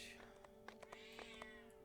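A cat meows in a video game, several short close mews over a steady musical background.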